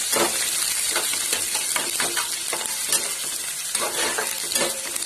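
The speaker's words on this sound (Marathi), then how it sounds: "कढीपत्ता टाकलाय, कांदा घातलाय, मिरची घातली. आता फ्राय करून घेते." Onion, curry leaves and chilli fry in a pan as they are stirred, a constant loud sizzle broken by repeated scraping and clinking of the spoon against the metal.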